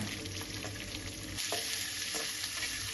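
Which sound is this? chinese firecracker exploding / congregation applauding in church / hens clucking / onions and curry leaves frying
onions and curry leaves frying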